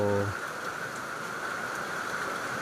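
Steady rain falls across an open rice field during harvest, a dense even hiss with no breaks that stays moderately loud throughout, with a brief low hum at the very start.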